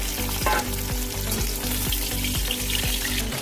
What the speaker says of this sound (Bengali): পটলগুলো আমার বেশ লাল লাল করে ভাজা হয়ে গেছে, এবার আমি নামিয়ে নেবো।